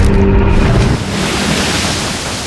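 Ocean surf roaring below a steep cliff beside wet grass, a steady broadband wash with a gusty wind edge that stays loud throughout, with no speech.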